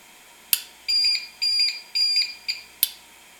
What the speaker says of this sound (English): It beeps every once in a while to let me know that there's no line power.